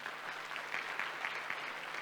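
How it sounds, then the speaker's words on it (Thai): A steady patter of applause from a modest audience at an Atomy business presentation, continuous and fairly even, heard from some distance. "ปรบมือให้อันโตมี่ของเราครับ"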